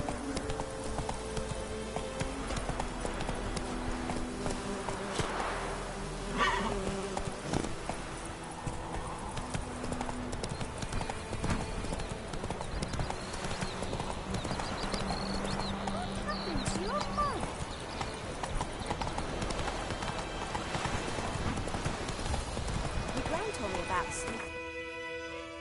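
Roach the horse from Witcher 3 gallops in a quick, continuous drumming of hooves, close and steady under game music and ambience, with people talking intermittently.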